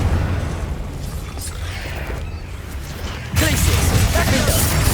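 The Confringo blasting spell explodes in the Hogwarts Legacy video game, with a rumbling boom and then a sudden louder blast and crackling burst midway through, under game ambience.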